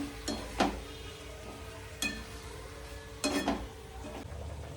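Marinated chicken coated in turmeric and salt being stirred and mixed in a pan, with a steady low sizzle and a few distinct scraping, clinking strokes of a spoon against the metal.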